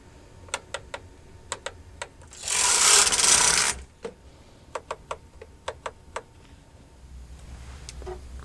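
Carriage pass on a domestic knitting machine, a quick series of close clicks and ticks around one loud sliding whoosh of the carriage across the needle bed, with no talk.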